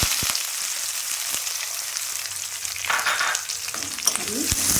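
Chopped onion and green chilli frying in hot oil with cardamom, cloves and cinnamon, a dense close sizzle with a few stirring knocks and scrapes, no voices.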